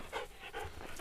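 A dog pants close by in quick, rhythmic breaths outdoors, with no voices.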